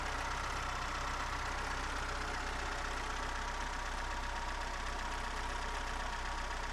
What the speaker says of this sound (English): the carburetor is successfully installed and the engine is running smoothly